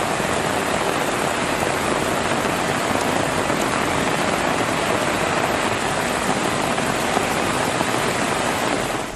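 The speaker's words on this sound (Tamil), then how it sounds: "சுற்றுவட்டார பகுதிகளில் கனமழை வெளுத்து வாங்கியது" Heavy rain pours down at night in Chennai, a dense, loud, unbroken roar of falling water with no voices.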